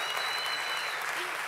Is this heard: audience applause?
yes